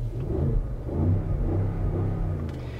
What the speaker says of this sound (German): Meinst du, ich kann hier mal kurz auf das Gas drücken?